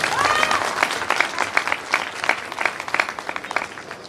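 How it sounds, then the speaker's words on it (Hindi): An audience at a stage event bursts into steady applause, many hands clapping in a dense, even patter that thins slightly toward the end, with faint crowd murmur underneath. "मैं चाहूँगा इस प्लेटफॉर्म के लिए एक जोरदार ताली हो जाए।"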